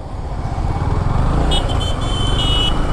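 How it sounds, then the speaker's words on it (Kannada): Dense motorcycle and car traffic crowds a toll plaza, a steady loud engine rumble throughout with a few short horn toots sounding near the end. "ಇದೇನು ಇಷ್ಟೊಂದು ಗಾಡಿ ಬಂದೈತೆ?"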